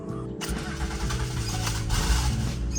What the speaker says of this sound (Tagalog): yung tunog na yung starter natin